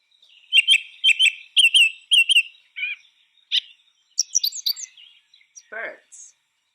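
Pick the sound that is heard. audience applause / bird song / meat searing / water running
bird song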